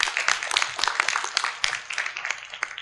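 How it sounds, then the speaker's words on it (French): A conference audience at a forestry colloquium applauds, dense close clapping from many hands that holds steady for a few seconds and then thins slightly. "Ça vaut une main d'applaudissement."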